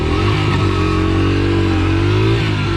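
A vehicle engine, started and revved on a Paris street, runs loud and close with a steady throaty drone that swells slightly and eases off in a sustained rev.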